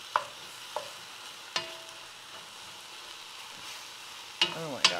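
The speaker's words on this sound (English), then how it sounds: "I wanna make sure that that garlic gets a little sauteed before I put the liquid in" Garlic sautéing in a pot: a quiet, steady sizzle punctuated by several sharp clinks and scrapes of a utensil against the pot, close and without talk.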